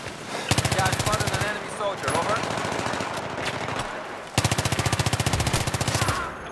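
Loud automatic machine-gun bursts in Battlefield 3, two long rapid strings of shots separated by a short lull, with players talking excitedly between and over the firing.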